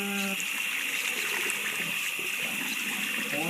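Water runs steadily from a tap while hair extensions are washed, a loud continuous hiss and splash from start to finish with no talk.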